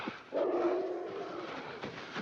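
A dog barks once, then lets out a long, drawn-out howl in the film An American Werewolf in London, distant and faint against quiet night ambience.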